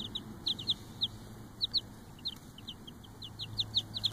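Cream Legbar and Marans olive egger chicks give a scattering of short high peeping chirps, irregular and fairly faint, over a low steady background hum.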